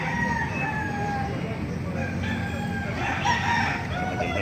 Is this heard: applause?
no